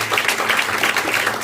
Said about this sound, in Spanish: Aplausos a Dios por su palabra